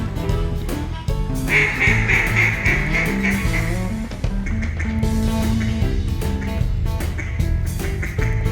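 Mallard ducks on an Arkansas timber hunt quack loudly and close, a dense overlapping chorus of rasping calls running steadily throughout with a few higher drawn-out notes.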